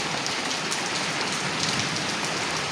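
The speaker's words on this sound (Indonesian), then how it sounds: "gerimis dan lama-lama menjadi hujan yang lumayan basah" Rain falls on a garden after the plants were watered, drizzle grown into a fairly heavy steady downpour, a dense, loud and continuous patter of drops on surfaces.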